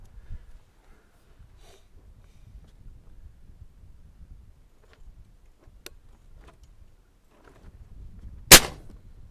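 An airgun fired on an outdoor range at an airgun expo gives a single loud, sharp crack near the end, after a stretch of quiet low rumble and a few faint ticks.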